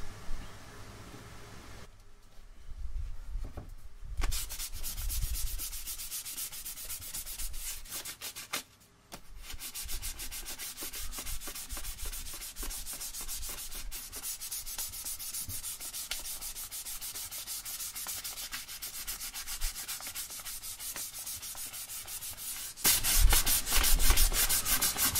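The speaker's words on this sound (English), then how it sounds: "I'm just giving these a sand with 400 grit just to clean it up, any rough spots" Hand sanding of a stained left-handed Tele-style electric guitar body with 400 grit sandpaper, steady hissing strokes that run continuously, with a brief pause partway through and a louder burst near the end.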